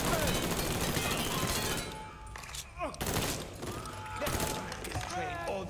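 Rapid video-game gunfire from Mafia 3 fills the scene in loud, dense bursts with a short lull midway, over background music and shouted voices.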